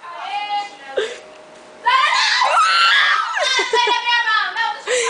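Several people scream shrilly and loudly at close range, with high-pitched cries rising and falling between brief gaps.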